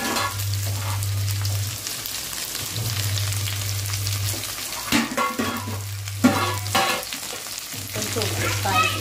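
Ivy gourd (kovakkai), about four kilograms with dried red chillies, sizzles and fries in a pan, with steady crackling, scraping stirs and clatter against the metal, while a low electric hum pulses on and off beneath.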